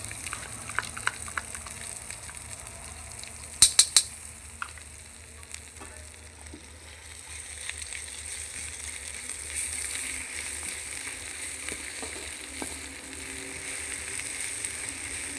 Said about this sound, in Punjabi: ਇਹਨੂੰ ਆਪਾਂ ਤਲਾਂਗੇ ਥੋੜਾ ਜਿਹਾ ਆਪਾਂ ਫਰਾਈ ਕਰਾਂਗੇ